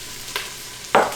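Onion and celery hitting hot melted coconut oil for broccoli soup, two quick sizzling bursts, the second louder, close up with no talking.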